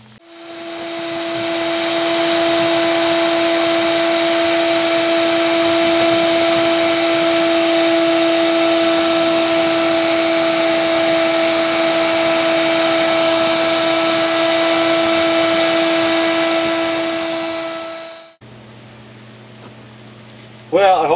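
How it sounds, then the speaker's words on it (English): A shop vac runs steadily and loud for about eighteen seconds, sucking debris out of a rainwater harvesting tank with a strong motor whine, then shuts off abruptly and leaves a brief quieter stretch. "If you have a wet vac, a shop vac or something like that, vacuum it all out of there"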